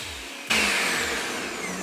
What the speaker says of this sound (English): Time to blend this on high for about 2 minutes.